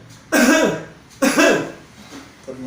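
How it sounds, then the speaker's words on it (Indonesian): Two sharp, close coughs a second apart while wearing a sealed face mask, each a short harsh burst, followed by a faint trailing breath. "Coba ya, kita batukkan."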